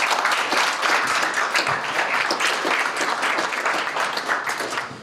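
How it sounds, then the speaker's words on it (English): Sustained audience applause at a university talk event, a dense, steady wash of many hands clapping that stays loud throughout and fades slightly at the very end. "let's give them a round of applause again"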